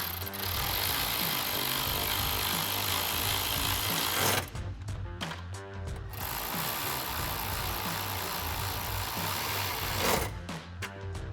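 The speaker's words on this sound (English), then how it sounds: "you can now tighten them down with a 10mm socket" A power tool with a 10mm socket tightens headlight bolts on a 2018-2023 Mustang GT, with loud sustained whirring bursts broken by a few short pauses.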